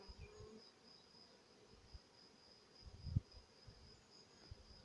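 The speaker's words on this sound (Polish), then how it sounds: "Cztery ramki, pełno pszczół." Faint, steady buzzing from many honeybees on hive frames, a low continuous hum with a brief louder thump partway through.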